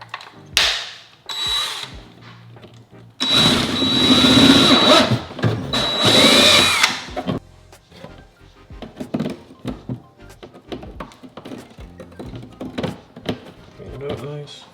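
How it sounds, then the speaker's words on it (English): A power drill bores holes through the interior trim of an 11th-gen Honda Civic for wire routing: one loud, sustained whirring burst of a few seconds mid-clip, with brief clatter and spoken voices before and after. "next I'm going to go ahead and drill the holes where I want the wires to go"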